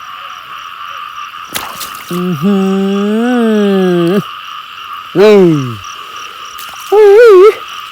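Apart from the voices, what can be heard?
frog croaking while being caught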